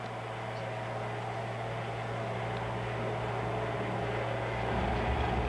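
A steady, droning propeller plane engine hum with a low continuous tone, constant and unbroken throughout.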